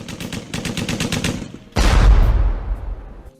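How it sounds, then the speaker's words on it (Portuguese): Rapid burst of gunfire followed by a single heavy shot with a long rumbling tail, loud and close, no voices, presented as Olympic shooting sport at the 1896 Athens Games. "Tiro."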